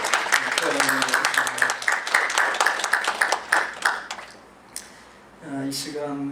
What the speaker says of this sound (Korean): 우리 박수로 우리 사랑을 표현해